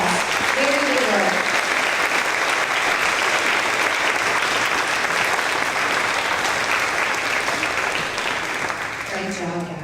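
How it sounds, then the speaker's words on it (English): Parents and students at a third grade school awards event clap in a long, loud, steady round of applause, with voices briefly heard near the start and again at the end. "Let's give them a round of applause."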